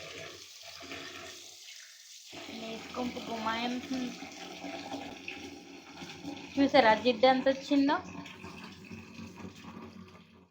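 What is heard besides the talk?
tap water running into kitchen sink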